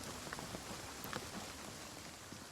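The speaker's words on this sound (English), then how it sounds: "It's been raining on us this whole time" Soft rain in the video game Project Zomboid patters quietly and steadily, with faint scattered drops ticking over a low hiss and no voices.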